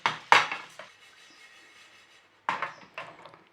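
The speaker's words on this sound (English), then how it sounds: "We just need to keep them moving in the pan." Oats toasting in a pan while being stirred, a few sharp scraping and tapping hits of a utensil against the pan with a soft rustle of grains between them, close and clear.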